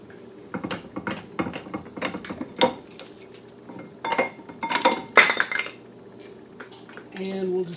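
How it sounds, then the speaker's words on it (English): An Audi A4 brake caliper comes off after its Allen-head bolts are undone, with a string of close metallic clinks, knocks and rattles at an uneven rhythm. "And now this caliper will come off."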